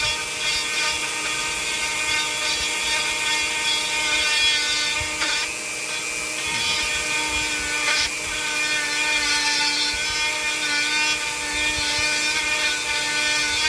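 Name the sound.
Dremel rotary tool with Cutzel Extreme Taper Burr carving walnut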